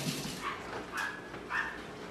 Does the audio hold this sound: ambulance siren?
no